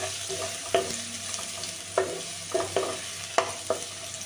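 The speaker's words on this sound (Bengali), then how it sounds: "প্রথমে গাজরটা ভেজে নেবো, হালকা হালকা বয়েল করে নিয়েছি, এর জন্য তাও আমি একটু ভেজে নিচ্ছি" Carrots, first boiled lightly, fry in white cooking oil with a steady low sizzle, broken by several sharp clinks and scrapes of a spatula stirring the pan at irregular intervals.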